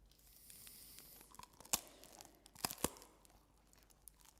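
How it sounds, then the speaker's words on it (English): A crunchy, sweet peanut snack made without jaggery or sugar being bitten and chewed, a few sharp crisp crunches among softer crackling, close and quiet with no talk. "That's nice and crunchy and quite sweet too"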